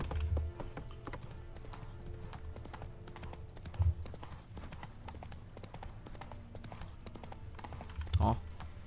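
Geralt's horse Roach galloping in The Witcher 3, a steady rhythmic clip-clop of hooves running under a constant game backdrop, with a couple of heavier thuds standing out.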